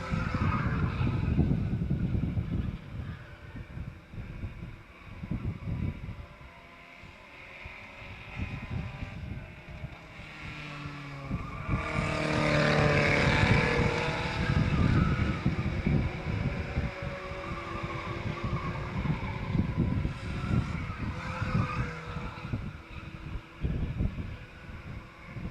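A pack of cars in a 10-lap qualifier for the Sunday driver Crash and Burn division drones around the track at a distance, engine noise rising and falling as they pass, with wind buffeting the microphone.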